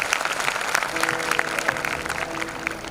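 An audience at a school Independence Day celebration claps loudly and steadily, a close, dense wash of applause with a faint steady hum underneath.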